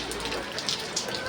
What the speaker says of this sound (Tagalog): Nadidiligan na ng ulan, masaya na naman yung halaman ko